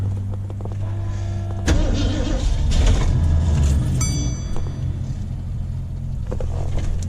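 A 1973 Ford Maverick engine that sat for over twenty years runs roughly with badly off timing after cranking, a close, steady mechanical drone that turns louder and rougher partway through and holds to the end.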